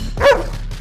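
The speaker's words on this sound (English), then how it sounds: "you know there's dogs barking here tonight" A single short dog bark sounds close and fairly loud over a steady low background hum, with no voices.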